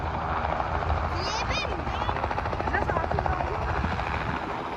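A helicopter lands near a cornfield, its loud, steady rotor thrum and whine filling the whole stretch up close, while voices speak over the noise.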